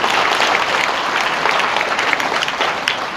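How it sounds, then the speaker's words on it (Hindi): An audience at a Brahma Kumaris honour ceremony for householder volunteers gives sustained, dense applause, loud and continuous throughout, with no speech over it. "आप दिल से और एक दफा जोर से ताली बजा के उनका स्वागत करें"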